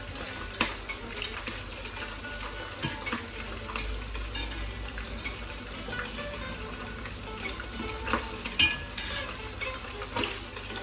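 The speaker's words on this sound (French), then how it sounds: "je vais faire frire un peu la viande de veau aussi" Veal frying in a pan gives a low, quiet sizzle under frequent clinks and scrapes of a utensil against the pan, with sporadic sharper knocks throughout.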